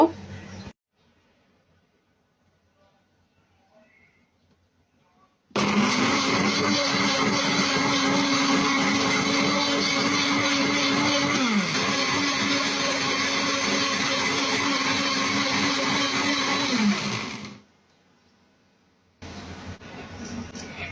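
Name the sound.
blender blending mint lemon juice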